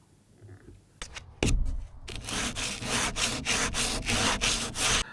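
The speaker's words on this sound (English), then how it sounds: "What I like about the hand sanders versus the electrical sanders is that they blow a lot less dust" A hand sander works wood during a DIY arch build, making rough, rhythmic back-and-forth rasping strokes that start after a couple of soft knocks and continue close and steady, with no speech.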